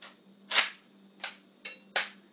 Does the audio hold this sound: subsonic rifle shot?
yes